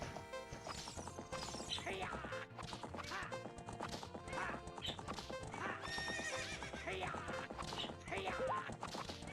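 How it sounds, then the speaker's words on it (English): Horse race in The Legend of Zelda: Ocarina of Time, with steady clip-clopping hooves galloping and repeated neighs and whinnies over dense, continuous game music and effects. "I hate horse racing."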